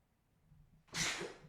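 A single sharp sneeze bursts out after a moment of quiet breathing, close and fairly loud.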